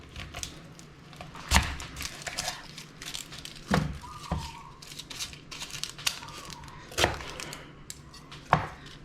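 A knife chops through a whole onion on a cutting board, giving sharp, separate thunks at irregular intervals with quiet pauses between strokes, close and clear, without talk.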